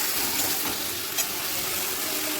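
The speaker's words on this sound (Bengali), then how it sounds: "ভালো করে নেড়ে ফেলে দেবো" Fish curry with chopped tomato being stirred in a pan makes a continuous hissy sizzle, with a brief scrape of the spoon partway through, fairly quiet and with no voices.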